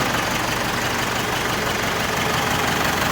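A Massey Ferguson MF455 tractor's 100-horsepower, 4,100 cc diesel engine idles continuously, steady and loud with a dense, even rumble and no change in pace.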